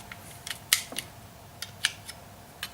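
Sharp mechanical clicks from the rear hatch latch of a Subaru Forester, clogged with dirt and rust, being worked back and forth; several crisp clicks spaced irregularly, close and fairly quiet with no talking.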